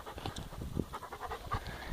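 A dog pants steadily in quick, rhythmic breaths, close and fairly loud.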